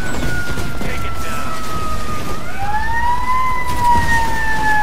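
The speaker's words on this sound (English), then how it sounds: "And the fire truck is coming, guys." A fire truck siren in the video game Titanfall rises and falls in pitch over a steady engine rumble, loud and continuous throughout.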